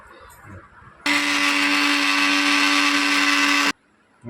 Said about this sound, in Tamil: இதை அரைச்சி எடுத்துக்கிடுவோம் மிக்சியில்